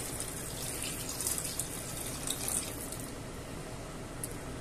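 Water is poured into a pot to cover potatoes for a mussel stew, a steady splashing, running flow at moderate volume and close by, without any talking.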